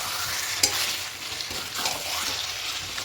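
Chicken stir-fried in oil in a pan for a chicken kosha, giving a steady close sizzle with scraping spatula strokes and one sharp clack near the start.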